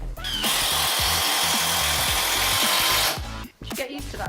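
A battery-powered tool hammers a fastener in while building a double loft bed, a loud continuous rattling impact burst lasting about three seconds, then stopping abruptly, with brief thuds after.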